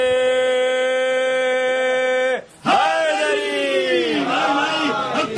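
At a religious gathering at the Dargah of Imam Ali, a long, sustained call from one voice is answered by a loud crowd shouting a slogan together, a rough, massed roar of voices that holds for several seconds.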